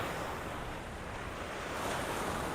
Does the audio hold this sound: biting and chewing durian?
no